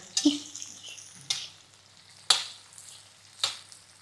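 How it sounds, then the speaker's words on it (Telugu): Onions hit a hot kadai with a brief sizzle, followed by a few sharp scraping stirs spaced about a second apart, close and fairly quiet between the strokes. "ఇప్పుడు ఇందులోకి ఆనియన్స్ వేసేసుకుందాం"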